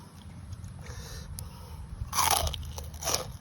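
Crispy pork cracklings are bitten and chewed alongside fresh vegetables and spicy shrimp salad, with loud close crunches bursting out near the end over a low background murmur and no clear talk.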